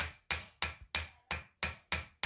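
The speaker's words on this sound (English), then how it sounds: "You got your hammer and your chisel" A hammer strikes a chisel into a pile of earth while digging for gems, giving seven sharp, evenly spaced metallic blows close by with no talking.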